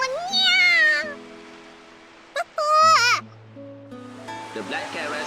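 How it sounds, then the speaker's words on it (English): A black cat in The Fruit of Grisaia video game lets out two loud, drawn-out meows close up, separated by a brief chirp, over a sustained low musical tone and soft background texture. "The black cat races around Michiru's leg and finds the boa constrictor."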